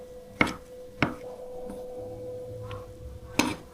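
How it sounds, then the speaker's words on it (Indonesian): Knife slicing through meatballs onto a cutting board in the kitchen gives three sharp, close knocks, two in quick succession and one after a pause, with a faint steady hum beneath. "Potong sesuai selera nih. Kalau aku potongnya seperti ini."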